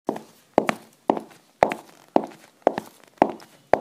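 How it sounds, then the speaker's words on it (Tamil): Footsteps on wooden hall stairs, an audio drama sound effect: seven or eight evenly spaced hollow thuds at a steady walking pace, close and clear with no talking. "மரத்தாலான ஹால் மாடிப்படிகளில் யாரோ இறங்குவது போலவோ ஏறுவது போலவோ அந்த காலடி சத்தம் எழுந்தது."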